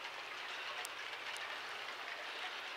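Steady broadband hiss of rain falling, even and continuous, with faint rumble underneath and no voices.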